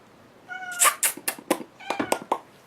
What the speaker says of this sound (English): Cat's meowing his head off.